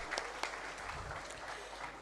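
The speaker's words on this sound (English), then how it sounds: "Zenith Bank also deserves a round of applause" An audience at a Zenith Bank international trade seminar applauds, a steady wash of many hands clapping at moderate, fairly distant level, with a few sharper claps standing out.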